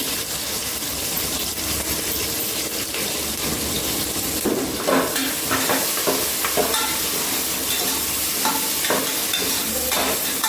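Onion and green chilies hitting hot oil in a pan already holding whole spices, then stirred, making a loud, close, continuous sizzle with bursts of crackle and scraping as it's moved around.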